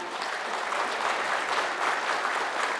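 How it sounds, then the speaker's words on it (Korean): An audience applauds at the founding general assembly of an international interreligious union, welcoming a religious leader with dense, steady clapping throughout. "여러분 큰 박수 보내주시죠."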